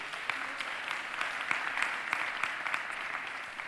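A town hall crowd applauds the mayor with steady, dense clapping that fills the room evenly from start to finish, with no voices breaking through.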